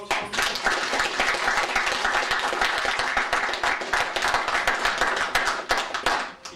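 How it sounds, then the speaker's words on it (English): Wedding guests break into sustained applause for the bride, a dense, steady clapping that fills the room for several seconds with a few louder individual claps, then fades at the end. "Will you give her a round of applause"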